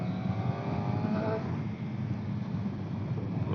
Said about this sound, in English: Oh, she does rip when you just give her a bit of throttle, this bike.